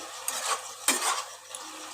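Shredded cabbage frying in a pan on a raised gas flame, stirred with a utensil in a few quick scraping strokes over a soft background sizzle, close and fairly quiet, with no talking.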